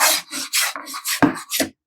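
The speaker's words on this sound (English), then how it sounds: "when it comes to flattening it with a hand plane, you can go across the grain, with the grain" Hand plane flattening a hump from a wooden board, working across and with the grain: six rasping strokes in quick succession, close and loud, with no talk.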